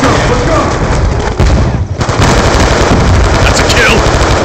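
Dense gunfire in a video game shootout, with loud rapid bursts and booms layered over constant heavy battle noise. There is a brief dip before the firing resumes at full intensity.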